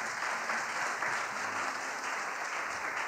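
A worship service audience clapping continuously, a dense steady patter of applause heard at a moderate distance.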